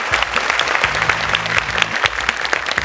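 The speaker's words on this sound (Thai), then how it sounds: "ขอเสียงปรบมือดังๆเลย" Loud audience applause at a Bangkok University venue during a televised innovation awards competition, brisk dense clapping throughout with low, steady music playing underneath.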